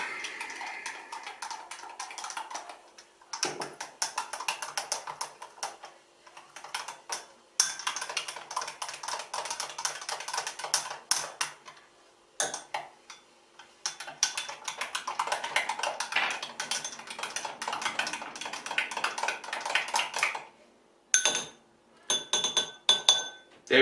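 A spoon clinks rapidly against the inside of a glass in long bursts of stirring, close and bright, with short pauses between rounds.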